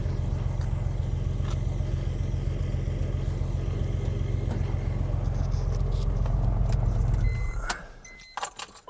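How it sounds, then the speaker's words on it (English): A modified 2003 BMW M3 coupe idles with a steady low engine rumble that cuts off abruptly as it is shut down, followed by quiet and a few close jangles of keys. "I'm going to shut down the engine."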